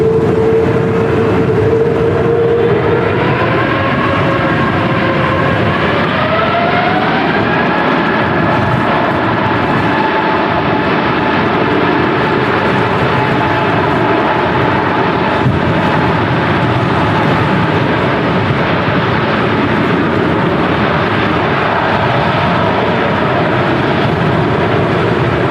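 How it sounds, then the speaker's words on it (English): An Emirates Airbus A380 departing from Manchester Airport in strong storm crosswinds, a loud sustained engine roar with a rising whine that climbs in pitch early on, then holds under heavy rumbling. "Emirates A380 about to depart on the south side"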